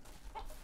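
A single soft, short cluck from a chicken in the video game Ranch Simulator, heard faintly against a quiet background.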